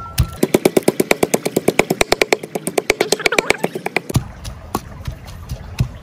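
Garlic and chili are pounded in a mortar with a fast, even run of sharp thuds for about four seconds. A few slower, scattered knocks follow after the pounding stops.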